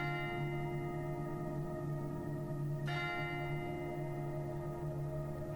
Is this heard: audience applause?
no